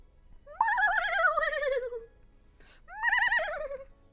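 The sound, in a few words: voice imitating a horse neigh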